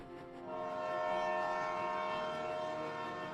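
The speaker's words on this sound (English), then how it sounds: "The train begins to slow." A train in an audio drama slows on the tracks, giving a sustained tonal hum and horn-like drone that swells in after a brief quiet start and holds steady.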